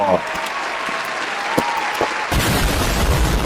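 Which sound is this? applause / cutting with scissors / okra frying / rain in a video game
applause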